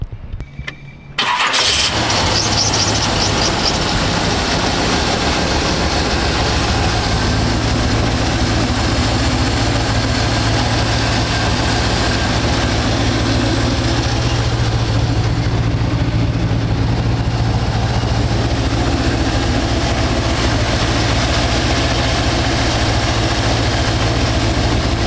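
A 1940 Ford Custom Coupe with a GM 383 V8 cranks briefly and catches, then settles into a loud, steady, deep idle that rumbles on close by with no talk.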